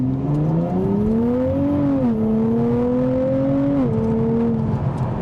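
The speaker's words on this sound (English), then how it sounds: "We're at the full stop in the manual mode, and let's see how this vehicle accelerates." A 2023 Nissan Z Limited Edition sports car accelerating hard from a standstill in manual mode, its engine droning loudly from inside the cabin, pitch rising through a gear then dipping briefly at two shifts.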